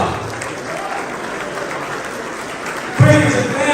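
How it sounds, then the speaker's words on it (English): Dense, continuous audience applause fills a hall at a Kappa Alpha Psi chapter's 50th anniversary celebration, a steady wash of many hands clapping before a voice briefly rises near the end. "Give them a big round of applause."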